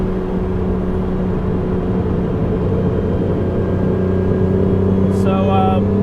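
A car's engine idles and runs steadily as it warms up after being revived from non-running condition, a loud continuous low rumble throughout with a brief higher tonal chirp near the end.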